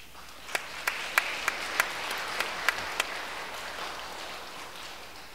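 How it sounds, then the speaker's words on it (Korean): A church congregation claps in a quick series of sharp, separate beats, roughly eight or nine, then lets the applause fade into a soft wash of scattered clapping in a reverberant sanctuary. "우리가 이렇게 박수를 또 한 번씩 두 번 치는 이유는 우리 모두가 이렇게 힘을 내자는 것 같아요."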